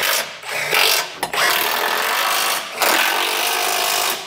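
Air ratchet or power tool tightening lug nuts during suspension work on an off-road AMG Mercedes, a loud continuous buzzing whir with a few brief pauses, close up.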